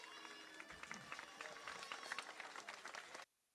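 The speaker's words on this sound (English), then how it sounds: "Now, some clapping." An audience at a public event with Florida Governor Ron DeSantis claps steadily, with dense overlapping claps and crowd murmur, before the sound cuts off abruptly near the end.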